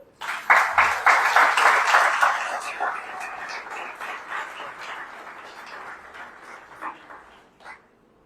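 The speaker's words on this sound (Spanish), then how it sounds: "Un aplauso al Señor." Church congregation breaks into applause, loud and dense at first and then thinning out over several seconds, with a few scattered late claps and some faint murmuring underneath.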